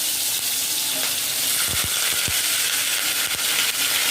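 Onions hit hot oil in a kadai and sizzle, a loud steady hiss of frying with a few sharp pops and clicks in the middle.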